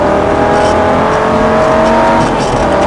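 A Lamborghini Gallardo accelerates on the Montlhéry track, its loud engine note held steady and close with a sustained tonal roar and no talk over it.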